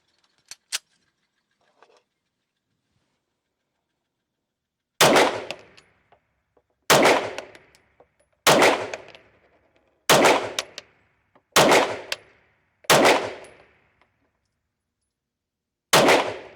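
An Arex Alpha 9mm competition pistol fires a magazine at a range: seven sharp, loud shots in a spaced rhythm, each with a short ringing decay, preceded by a few faint clicks and handling noises, with no talking.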